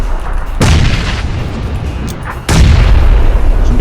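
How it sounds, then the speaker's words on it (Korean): Two loud, close grenade blasts in an online battle-royale shooter, the first a booming burst followed by a rumbling tail, the second an even heavier boom about two seconds later, with no talking. "수류탄 날라오기 수류탄 날라오고는 있는데 저 괜찮겠지?"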